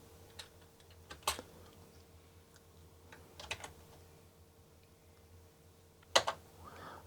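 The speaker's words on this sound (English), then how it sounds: "I can use the cursor key and then type over." Sparse, close key clicks on a Sinclair computer keyboard, single taps and short clusters separated by quiet pauses over a low background hum.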